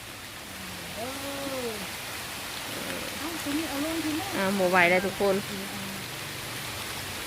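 Steady rain falls throughout, a broad even hiss under a speaking voice, during a rainy spell at a traditional Lao community gathering.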